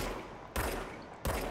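Gunfire from the video game Control comes in two sharp, loud bursts of rapid shots separated by a brief gap.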